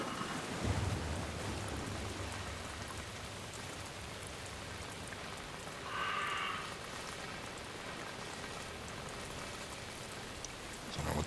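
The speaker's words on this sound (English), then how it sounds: "I think it's the rain hitting up some metal or something." Steady rain patters on metal in the horror video game Alan Wake II, a continuous dense hiss with a faint low rumble and a brief tonal ringing midway, no voices.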